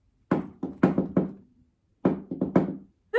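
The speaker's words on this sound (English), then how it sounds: "there was a loud knock on the door. Well, 2 knocks to be exact." Two sharp bursts of knocking on a door, each a quick run of four loud, close raps, separated by a short pause in otherwise silent surroundings.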